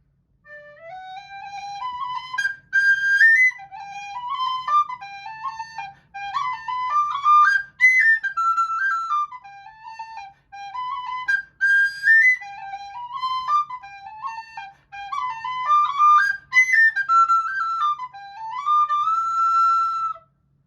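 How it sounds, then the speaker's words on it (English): A Killarney tin whistle plays a lively jig, bright ornamented melody in quick running phrases with brief breath pauses, close and clear with nothing else heard. "And now let's hear a jig."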